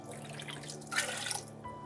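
Water splashes steadily into a jug in a home kitchen while karhi pakora is being cooked, with a brief louder gush partway through and a quieter trickle near the end.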